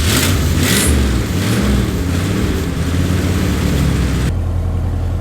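A lifted old Ford truck engine runs steadily in neutral, a continuous loud low rumble with slight revving swells before settling to a plainer idle near the end; no talking.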